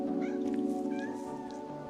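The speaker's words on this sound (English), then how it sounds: "the kittens are having a bath" Farm kittens at a farmhouse mew several times in short, high cries over a steady humming background tone.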